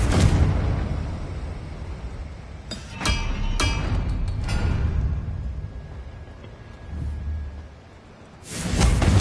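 Confringo spell explosions in a video game boom loudly several times, with blasts and whooshes layered over a constant roaring rumble and a final burst near the end.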